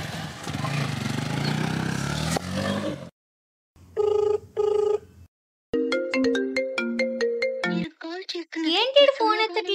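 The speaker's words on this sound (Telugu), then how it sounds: "ఏంటి ఫోన్ ఎత్తట్లేదు?" A phone ringtone plays in short repeated bursts with gaps between them, following a stretch of louder background noise, then continues as a melodic ringing pattern that nobody answers.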